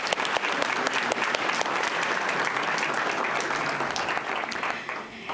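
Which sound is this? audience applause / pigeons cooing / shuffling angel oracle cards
audience applause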